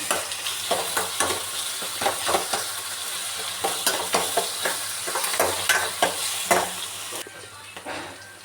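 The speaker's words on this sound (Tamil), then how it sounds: "வெங்காயத்தை நல்லா மிக்ஸ் பண்ணி விட்டுப்போம்." Onions frying in a pan are stirred with a utensil, giving a steady sizzle broken by repeated scraping strokes in an uneven rhythm, close and fairly loud, with no voices.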